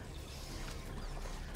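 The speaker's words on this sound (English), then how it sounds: "Mag's empty. Last reload." A gun reloads in Helldivers 2 with clicks and mechanical ratcheting of the magazine and action, dense and close amid steady busy background noise.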